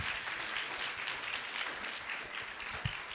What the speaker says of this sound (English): let's give one more round of applause for the security out there